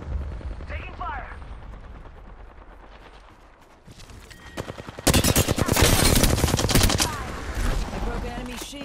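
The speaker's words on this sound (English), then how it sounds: "They're shooting at me?" Rapid gunfire in a video game shootout, with dense overlapping shots that build to a loud sustained burst in the second half.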